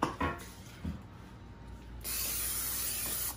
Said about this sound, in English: I'm going to spray the whole sucker because we don't want it to get stuck.